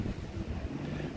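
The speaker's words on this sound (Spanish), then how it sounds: "Esas lanchas que están ahí son lanchas rápidas que transportan a los turistas" Tourist speedboats near Tawaen beach on Koh Larn Island give off a brief distant drone, blended with wind buffeting and the wash of the sea.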